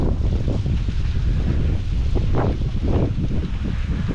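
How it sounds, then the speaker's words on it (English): Strong wind buffets the microphone outdoors at an estate auction, a constant loud low rumble with gusting surges throughout and no speech. "Wow, it's windy."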